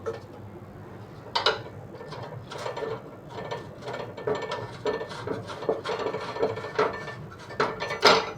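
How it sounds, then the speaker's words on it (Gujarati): Metal clicks and ratcheting taps from a wrench tightening the bolt that holds a gas stove burner in place, the burner fitted with a washer so it stops wobbling; repeated irregular close-up clicks over a steady low background. "હવે થોડોક ટાઈટ કરી દઈએ આ આપણે બોલ થોડોક ટાઈટ કરી દેવાનો છે જેથી બનર હલે નહીં"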